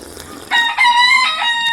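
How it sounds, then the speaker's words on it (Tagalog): Rooster crowing in a Philippine farmyard, one loud, close cock-a-doodle-doo rising after a brief pause and holding for about a second, with faint clucking before it. "Tapos yung background mo, yung mga manok."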